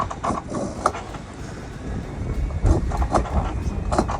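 Sailboat deck gear is worked close by as the traveller pulley and winch turn, giving irregular clicks, creaks and ratcheting mechanical knocks.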